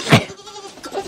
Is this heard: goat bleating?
yes